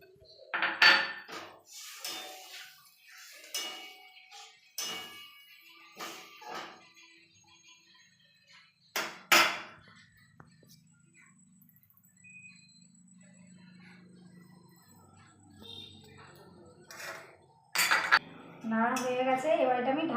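A spoon stirs a dish simmering in a pot with two bowls of water added, giving irregular metallic clinks and scrapes against the pot, close and fairly loud, with quieter stretches between, then a louder burst and a voice near the end.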